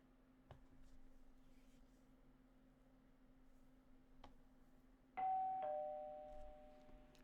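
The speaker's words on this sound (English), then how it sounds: "Keep thinking my doorbell's ringing" A two-tone doorbell chime in the Danganronpa Another game, ringing once clearly over a quiet low hum and faint ticks, then fading away.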